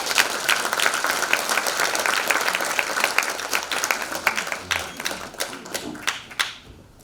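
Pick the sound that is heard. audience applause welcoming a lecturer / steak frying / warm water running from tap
audience applause welcoming a lecturer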